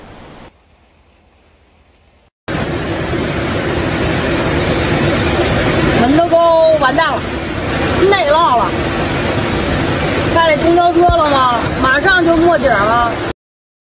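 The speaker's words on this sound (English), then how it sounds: "Look at that, how the flood water is flowing in Hubei province" Flood water surges in Hubei province in July 2024 after heavy rains, a loud, dense rushing roar that starts abruptly after a quiet moment and runs on while voices call out over it.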